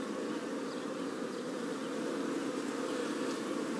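Honeybees in an open top bar hive hum in a steady, dense drone throughout, close and continuous with no talking over them.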